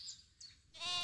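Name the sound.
goat bleating sound effect in audiobook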